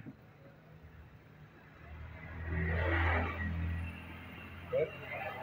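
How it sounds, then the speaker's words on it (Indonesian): A vacuum pump runs steadily during repair of a two-door LG non-inverter refrigerator that is not cooling, its low motor hum swelling in the middle and then easing, up close with no talk over it. "Mesin vakum ini."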